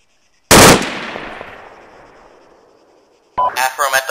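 A loud close burst of gunfire in the Arma 3 video game, a sharp crack with a long decaying echo, followed by radio-style voices talking.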